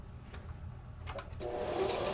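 A sewing machine stitches hair ties onto the ends of fabric pieces, running in a steady whir that grows louder and busier partway through, recorded close with no talking.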